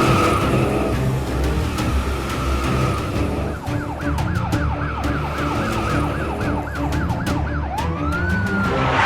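Cartoon police car chase: a wailing siren sweeps up and down repeatedly over a rumbling engine and road noise, with squealing skids, loud and close.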